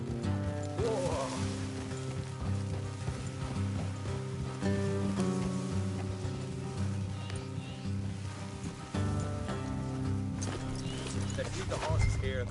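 Horse hooves clip-clop at a walking pace under dramatic background music, with faint sounds of horses mixed in throughout.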